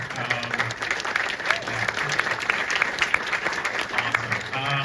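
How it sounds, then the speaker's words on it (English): A cinema audience at the Prince Charles Cinema in London keeps applauding, a continuous wash of many clapping hands that holds steady for several seconds with a faint voice underneath. "Thank you as well to our projectionists and the booth to keep the applause going."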